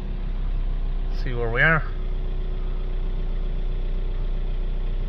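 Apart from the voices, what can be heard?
Ford Transit Connect 1.5 diesel engine idling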